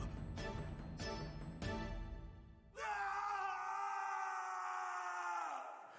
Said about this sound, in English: Oh, nice synchro scream.